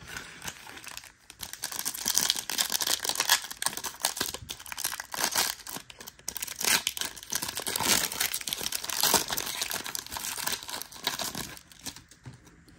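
A stack of basketball trading cards being shuffled up close, a continuous run of crisp crinkling and riffling card noise with brief pauses and no talk.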